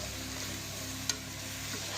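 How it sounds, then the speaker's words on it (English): Tomato sauce mixture being stirred in a pan, giving a steady soft sizzle with a single brief scrape or clink partway through, heard alone without talk. "now stir that all together."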